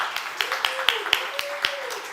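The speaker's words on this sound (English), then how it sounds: "I wonder if you can give a round of applause" Sparse, scattered claps from a small audience at a round table with journalists, a few distinct hand claps spaced out under a steady tone and faint voices.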